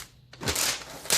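Plastic protective wrap being pulled off a new Asus Zenbook UX305 laptop, a close crinkling rustle that swells after a short quiet start and ends in a sharp crackle.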